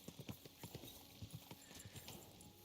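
Horse hooves clip-clop in a steady, fairly close rhythm in the medieval role-playing game Kingdom Come: Deliverance II, the hoofbeats evenly spaced over a faint ambient background.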